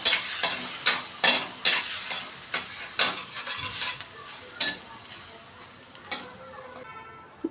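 Ginger garlic paste sautés in hot oil, a spoon scraping and stirring the pan in a steady series of sharp strokes over a soft sizzle, close and without talk.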